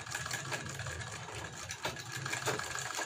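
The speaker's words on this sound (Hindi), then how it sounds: "सिलाई लगाकर हम एक बार स्टिच कर लेंगे" A sewing machine stitches fabric for a suit collar, its motor whirring steadily with a regular mechanical chatter that stays close and fairly even.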